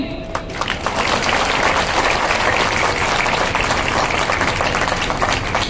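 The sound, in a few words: audience applause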